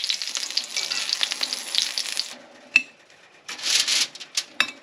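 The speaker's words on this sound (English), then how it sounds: "Plate number 1, pan-fried meatballs." Plant-based Beyond Meat meatballs sizzle and crackle in a frying pan, a close bright hiss that cuts off after about two seconds, followed by a quieter pause and a few short bursts of sizzling and scraping.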